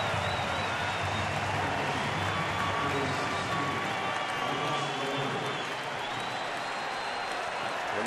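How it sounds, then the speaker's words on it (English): A sellout baseball crowd at Miller Park rises to its feet in the ninth inning, with loud, continuous cheering and applause that fills the whole stretch while a commentator talks over it. "And now they're on their feet. A sellout crowd at Miller Park."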